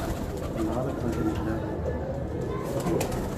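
Pigeons cooing in a coop, a dense low cooing murmur under constant background noise, with people talking nearby.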